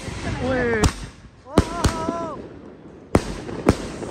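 Firecrackers burst during Diwali celebrations in sharp, loud cracks, two close together then two more, with excited voices talking and exclaiming between the bangs.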